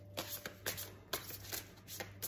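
Stiff tarot cards being shuffled and spread out in a quick series of crisp riffling bursts, close and fairly soft, with no talk over them.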